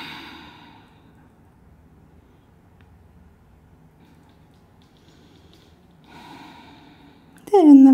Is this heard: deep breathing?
yes